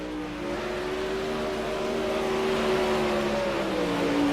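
Race cars circle the track during a qualifying session in the iRacing video game, producing a steady, sustained engine whine with layered tones that slowly drift upward.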